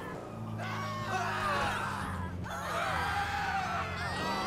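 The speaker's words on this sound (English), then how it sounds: "Lovely, lovely, lovely amounts of screaming." Pedestrians scream in Grand Theft Auto V, with several overlapping panicked shrieks rising and falling in two close waves over a low, steady car engine drone.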